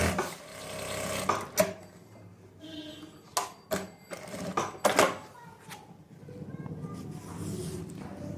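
Sewing machine stitching a belt onto the reverse side of the front of a pair of trousers, sounding in short irregular bursts of whirring with clicks and handling noise between runs, close up.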